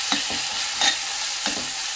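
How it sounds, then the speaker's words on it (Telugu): Ginger paste frying in hot oil while being stirred, giving a steady close sizzle with a few soft scraping strokes of a spoon in the pan, and no voices. "అల్లంలో పచ్చివాసన పోయేంత వరకు వేయించుకోండి"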